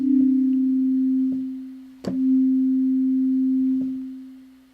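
A pure, steady synth tone sustains, then fades out gradually when released, retriggers with a click, holds again, and slowly dies away.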